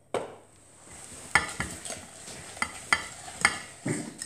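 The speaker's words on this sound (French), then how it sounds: "Et on mélange bien avec un fouet pour que ça mélange mieux" A whisk stirs liquid financier batter in a mixing bowl, giving repeated taps and scrapes in an uneven rhythm. The sound is close and moderately loud, with no talking.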